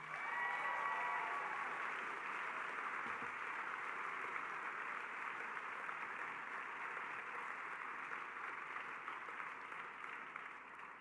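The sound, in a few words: audience applause at a gala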